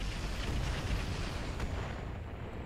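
Missiles from two LRM-20 and two LRM-10 launchers fire at a 100-ton heavy turret in a video game, a steady loud rumbling roar of launches and blasts sustained throughout, with no talking.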